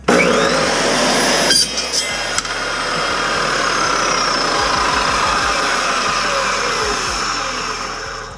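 A RIDGID 614 dry cut saw cuts metal, starting with a sharp spin-up and a loud whine, then a sustained grinding cut that slowly tapers off near the end.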